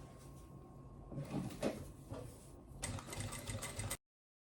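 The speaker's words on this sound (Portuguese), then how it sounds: "eu vou fazer uma costura de pesponto aqui em toda a volta para assentar essa janelinha" A sewing machine topstitches around the window of a fabric baby wipes pouch, a quiet whirring run of stitching with a brief pause and a clatter of handling before stopping abruptly.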